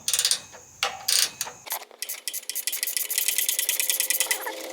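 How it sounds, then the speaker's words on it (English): A ratchet wrench loosens a DEF injector bolt on a 4th-gen RAM 2500 with the 6.7 Cummins, giving a few close, separate clicks, then a long run of rapid, steady ratcheting up close. "These wrenches are almost too long, but they're awful nice."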